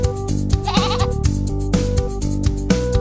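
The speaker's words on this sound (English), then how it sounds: "goat." A goat bleats, a wavering, nasal cry heard clearly over a bouncy children's music backing with rhythmic beats and no talking.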